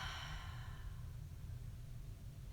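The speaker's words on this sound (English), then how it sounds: "breathing out" A person slowly breathes out during a guided relaxation, a soft, drawn-out airy exhale that fades gently over a couple of seconds, quiet and close.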